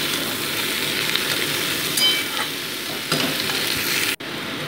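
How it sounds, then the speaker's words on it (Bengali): Small fish sauté in a pan with broad beans, radish, eggplant and potato for a chachhari, giving a steady, close frying hiss. Occasional stirring scrapes break in, and a sharp clatter comes near the end. "মোটামুটি এটাকে 2 মিনিট আমি কষিয়ে নিচ্ছি।"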